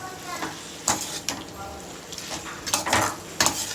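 Chicken frying in a pan over a high flame while being stirred, with soft sizzling and sharp scrapes and clinks of a spoon against the pan at irregular intervals, close by.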